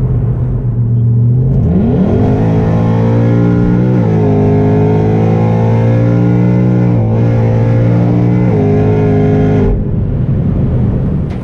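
A Whipple-supercharged Ford Mustang engine revs hard and loud as the throttle is pulled, the pitch sweeping up and holding high under load before dropping back twice, with supercharger whine layered over the steady roar.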